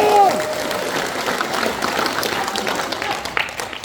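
A crowd at a Korean political event applauds party leader Jeong Cheong-rae, sustained clapping of moderate loudness that continues evenly for several seconds.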